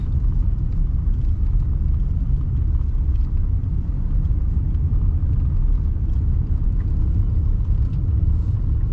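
Steady low engine rumble of a car crawling up a mountain pass at about 20 mph through hairpin turns, continuous and even throughout, with no talk.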